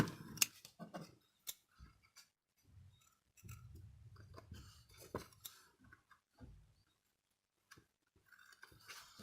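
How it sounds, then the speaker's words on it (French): Scissors snip away the overhanging edge of a handmade paper card, giving a few short, quiet cuts with pauses between them and nobody speaking. "On va recouper le plus proprement possible. Alors avec le ciseau."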